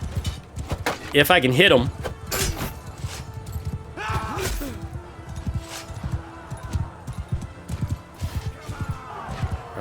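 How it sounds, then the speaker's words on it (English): Horses gallop through a battle in the Mount & Blade II Bannerlord video game, a busy patter of hoofbeats mixed with clashes and shouts, while someone talks over it. "Want to get rid of this horse running rampant amongst the back of my troops here."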